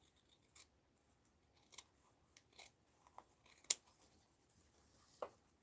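Scissors snipping around stitching on a handmade doll, a quiet run of sharp individual cuts and small crunches at an irregular pace, close and alone without talk.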